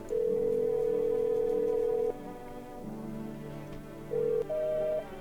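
A telephone in the video game No I'm Not A Human gives steady dial and dialing tones, with a long held tone, a pause, then short beeps and another tone, clear and alone.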